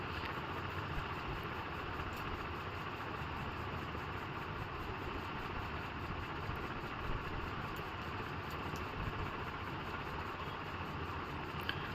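A sewing machine stitches blouse fabric and its lining along a neck shape for a size-42 tucked blouse, giving a steady, close, continuous motor whir and vibration with no pauses and no talking.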